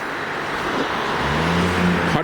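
A car's engine runs during a snowstorm as it is driven out through the snow, a close, steady low engine drone with a humming tone that rises and strengthens partway through.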